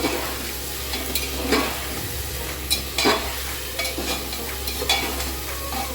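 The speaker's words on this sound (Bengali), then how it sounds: "পরিমাণ মতো নুন দিয়ে দেবো পরিমাণ মতো হলুদ গুঁড়ো এবার ভালো করে মশলাটাকে কষিয়ে নেব" Spice paste with salt and turmeric sizzles in oil for bhog khichuri, stirred with intermittent sharp scraping strokes over a constant low frying hiss, close by.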